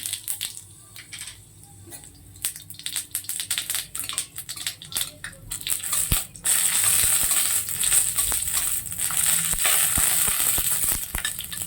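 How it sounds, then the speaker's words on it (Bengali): Mustard seeds sizzle and pop in a spoonful of hot oil for tempering, sparse crackles building into a loud, steady hiss with sharp individual pops throughout. "সর্ষেটা আমি ফোড়নে দিয়ে দিচ্ছি"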